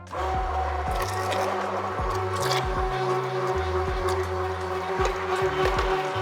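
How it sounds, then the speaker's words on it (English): Smoked pumpkin soup, seasoned with salt, black pepper and nutmeg, whirs in a blender in one steady, loud, close run with a churning motor drone and small pitch dips as it works through the thick purée. "Now we'll blend it out one more time."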